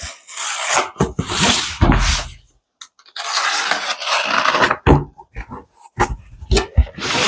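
A box being cut open indoors with a blade, giving a series of scraping, tearing and rasping bursts with short pauses between them, close and fairly loud.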